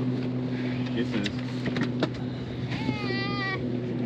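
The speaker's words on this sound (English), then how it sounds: "Cats over here talking to them like they're friends and shit." A cat meows once, a drawn-out rising and falling call heard near the end over steady background hum and noise at a lakeside outing, with people chatting nearby.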